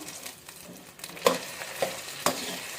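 Cashews frying in oil in a pan for mint rice, a soft steady sizzle close by, broken by a few sharp scrapes and clinks of stirring.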